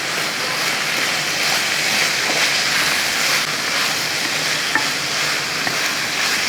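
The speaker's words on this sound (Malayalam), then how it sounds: "ഇനി ഇതെല്ലാം കൂടെ കൂട്ടി ഈ വൻപയറുടെ കൂട്ടി ഒന്ന് ഇളക്കി കൊടുക്കണം" Banana stem stir-fry with cowpeas being stirred in a pan, giving a steady, close sizzle and scraping hiss with faint spoon clicks throughout and no talking.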